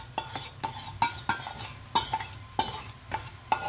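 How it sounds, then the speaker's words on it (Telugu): A spoon stirs coriander egg fried rice with egg and vegetables in a pan, scraping and knocking against the metal in a steady, close rhythm of about two strokes per second over a soft sizzle, with no talking. "ఈ ఎగ్ వెజిటబుల్స్ ఇదంతా కూడా రైస్కి బాగా పట్టేటట్టుగా మనము కలపాలన్నమాట"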